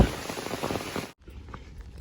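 Rain falls on the Appalachian Trail during a thru-hike, a dense steady patter and hiss that drops off abruptly midway to a much quieter outdoor background.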